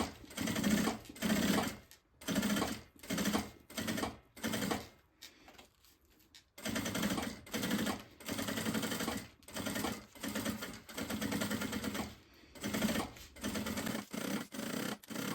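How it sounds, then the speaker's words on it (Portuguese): Sewing machine running a safety seam on a maternity bag, in repeated bursts of rapid stitching separated by short pauses, loud and close with no talk. "Vou fazer uma costurinha de segurança, tá?"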